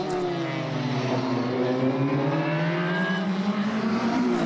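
Formula BOSS open-wheel race cars scream past on the Mondello Park circuit in Ireland, several engines layered in a loud, continuous high-revving howl with shifting pitch as they pass and change gear.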